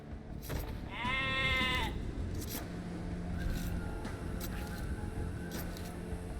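Age of Empires 2 sheep bleats, one clear wavering bleat early on, over a low background hum with faint clicks and a soft tone later.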